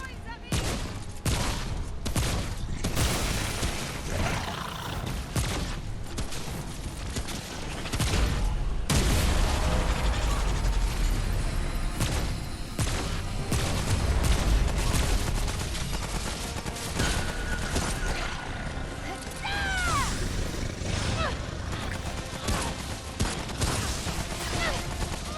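Dense rifle gunfire in the video game Remnant: From the Ashes, with rapid repeated shots and booms forming a loud, continuous barrage throughout, mixed with game effects.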